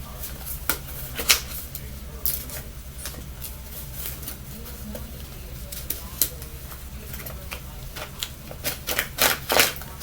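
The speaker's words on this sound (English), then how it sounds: "Okay, we're gonna get another shuffle" Tarot cards are shuffled in repeated bursts of quick riffling and slapping taps, some sharp and close, over a steady low hum.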